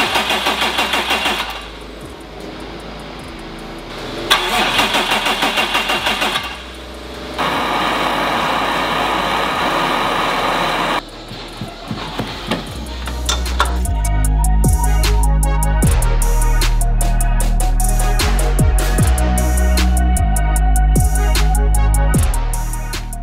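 A Subaru WRX STI swapped with an EG33 flat-six, tuned on a Haltech with a Hall-effect sensor, cranks through short bursts and stutters before catching into a loud, steady near idle with a deep low rumble.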